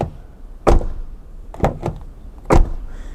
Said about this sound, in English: when it comes to door sounds, it's very generic